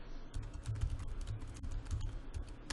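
Keys tapped on a computer keyboard to enter a web address, a quick run of close, crisp clicks and thumps at a soft level with no speech.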